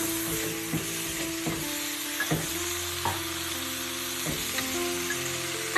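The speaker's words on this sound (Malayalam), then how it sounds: "ഇനി ഇതെല്ലാം കൂടെ നന്നായിട്ടൊന്ന് മിക്സ് ചെയ്ത് കൊടുക്കുക" Tomatoes and masala for paneer peas curry sizzle steadily in a pan as a spoon scrapes and taps in irregular strokes, with soft music playing underneath.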